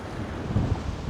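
Wind blowing at an RC plane airfield, a steady low buffeting rumble against the microphone with no pause, loud and close, with no talk over it.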